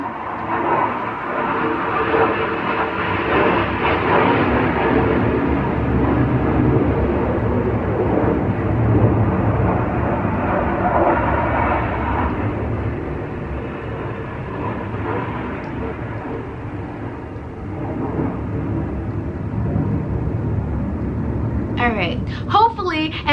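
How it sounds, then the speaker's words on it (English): An airplane passing overhead fills the scene with a broad, continuous rumbling roar that swells and lingers, heard steadily under a person talking throughout. "hopefully in my new house we will not hear these airplane interruptions"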